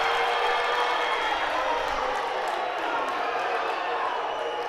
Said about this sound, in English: And the crowd upset here in Thermopolis.